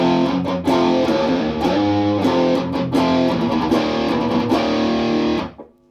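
Distorted electric guitar riff, played as steady chugging chords that close on a palm-muted final note before the sound cuts off; loud, close and alone.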